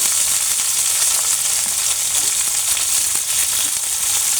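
Dried and green chilies, garlic cloves and ginger fry in a pan with a loud, even, unbroken sizzle and a few faint stirring ticks, with no voices.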